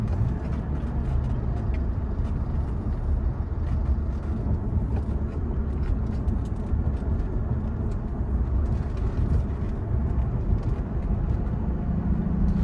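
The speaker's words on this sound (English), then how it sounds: "mainly just want to show you guys me going through the gears" Mercedes-Benz CL65 AMG with a manual transmission swap driving on open roads, a dense, steady low engine roar and road rumble heard from inside the car, with gear changes blending into the continuous drone; no talking.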